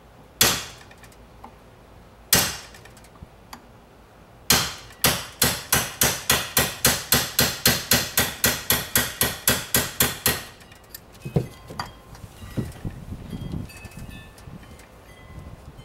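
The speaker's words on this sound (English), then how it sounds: "Knock it all the way down till you hear that little tap tap." Small hammer tapping a 3/16 dowel pin down on a 1994 Firebird: two separate metallic knocks, then a quick, even run of about fifteen sharp taps that fade slightly, followed by a few scattered quieter knocks and handling noise.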